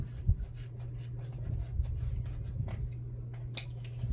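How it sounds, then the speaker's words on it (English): Scissors trim excess fabric while a drawstring water bottle bag is sewn, giving a few soft, close snips over a low steady hum. "Trim off any excess."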